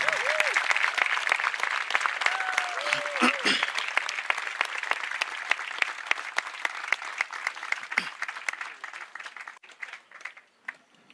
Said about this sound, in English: Ladies and gentlemen, please join us in a round of applause.